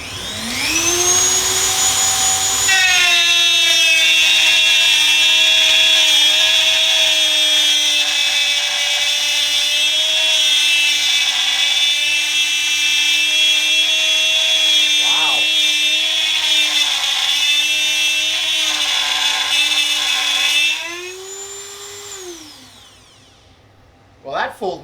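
A Dremel rotary tool fitted with a plunge router attachment cutting into wood, a loud, steady high-pitched whine that spins up, holds for about twenty seconds with a slight drop under load, then winds down.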